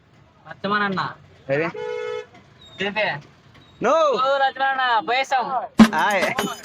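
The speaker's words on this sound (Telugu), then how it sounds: "ఏం ట్రాఫిక్ అయిపోయింది" Car horns honk in short bursts through heavy road traffic on a ring road, with engines droning underneath and people talking inside a car.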